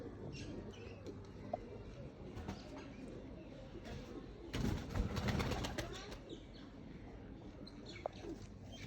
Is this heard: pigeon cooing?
yes